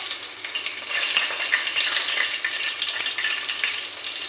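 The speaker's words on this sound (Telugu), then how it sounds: "ఇప్పుడు తాలింపు వేస్తున్నానండి" Tempering spices, dried red chillies and seeds, sizzling in hot oil in which lentil fritters were just fried; a steady crackling hiss close up with small pops, no voices.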